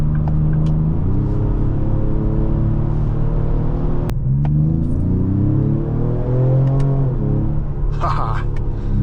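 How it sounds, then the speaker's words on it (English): A 2025 Ford Explorer ST's engine rumbles and revs steadily, pitch rising and falling as it accelerates through gears, loud and close, with a brief sharp click partway through. "Today we are driving a 2025 Ford Explorer ST"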